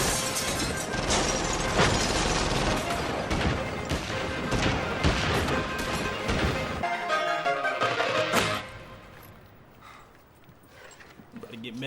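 Gunshots in the crime film Lock, Stock and Two Smoking Barrels, sharp loud cracks and crashes in quick succession amid film sound, with voices talking, then dying down to a quieter stretch.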